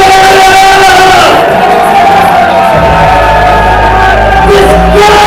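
A wrestling arena crowd at the UCW arena roars and shouts loudly in sustained reaction to a wrestler, with whoops and yells swelling throughout.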